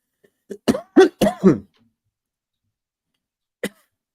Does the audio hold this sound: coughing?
yes